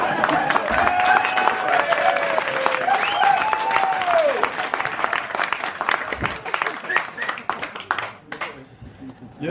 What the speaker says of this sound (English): Yes, round of applause for the shirt.